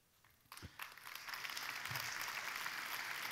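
Applause from an audience at a live event, starting with a few separate claps and swelling within a second into steady, full clapping that holds to the end.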